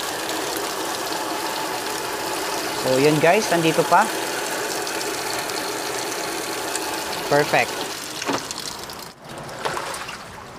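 Panasonic 8.0 kg fully automatic washing machine filling with water, a steady soft hiss with occasional mechanical clicks, heard under a person talking.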